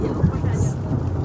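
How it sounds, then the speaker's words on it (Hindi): Thunder rumbles through a heavy village rainstorm in Punjab, a dense low roar with steady rain hiss filling the background, loud and continuous throughout. "तूफानी बारिश इसे हम कहेंगे, क्योंकि गरज चमक के साथ जो है ना वो बारिश हो रही है।"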